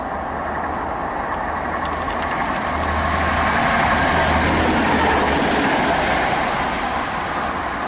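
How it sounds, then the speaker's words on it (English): A Class 175 diesel passenger train on the South Wales Main Line at Baglan rumbles past at a steady, loud level, with a low engine drone and continuous wheel and rail noise for the full length. "passing through now is an Arriva Trains Wales service from Manchester Piccadilly to Carmarthen"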